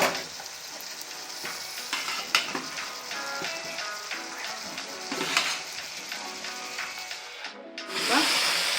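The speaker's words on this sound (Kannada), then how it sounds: "ಚಿಕನ್ನ ಹಾಕ್ತಾ ಇದ್ದೀನಿ" Chicken pieces frying in oil with onions in a pot for a country-style chicken curry, steady sizzling broken by repeated stirring scrapes and spoon knocks, close and fairly loud, with no talk.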